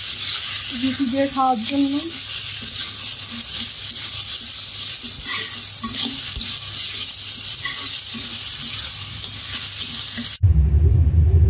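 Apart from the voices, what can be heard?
stirring and frying vegetable bhaji for breakfast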